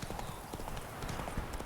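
Roach, a horse in The Witcher 3, trots along with a steady run of close, rhythmic hoof clip-clops, fairly loud and dense throughout the short stretch.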